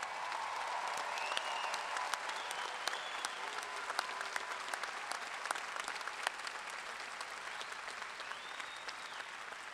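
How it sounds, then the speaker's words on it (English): At LSU's spring 2017 commencement, a large graduation crowd keeps up a long, even roar of applause for the graduating class, distant and reverberant, with scattered cheers and whistles rising above it. "Please join me with a round of applause"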